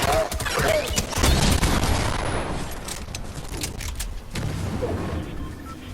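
Sustained bursts of gunfire in Fortnite coming from high ground, loud at first then continuing in scattered volleys over several seconds, slightly distant, with a faint voice underneath.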